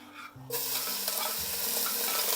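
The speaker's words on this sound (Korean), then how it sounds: "이리 넣고 이제 천천히 볶아주세요" 400 g of sliced beef brisket drops into a hot pot and starts sizzling loudly, a steady close frying hiss with some stirring scrapes, cooking for spicy Korean green-onion beef soup.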